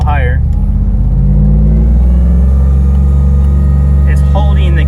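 An LT4 engine in a Wagoneer rises in a loud, deep rev while the vehicle holds its gear, a strong low rumble with pitch climbing, and a voice speaks briefly at the start and end.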